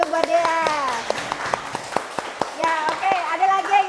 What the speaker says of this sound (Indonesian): Tepuk tangan dulu buat Dea.